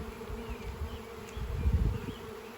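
Bees buzz steadily inside a nuc hive during a frame inspection, a dense low drone that swells louder partway through, close and with no one talking.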